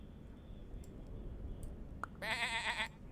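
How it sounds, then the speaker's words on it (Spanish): A sheep bleats once in the game Super Auto Pets, a short, wavering cartoonish cry after a faint click, heard over a low, steady background rumble with no talk. "Oveja."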